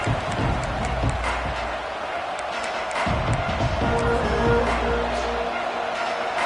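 Stadium crowd noise from the NCAA 25 college football video game, a steady, dense roar of cheering with scattered claps and thumps, held at an even level throughout, with some commentary-like voice underneath.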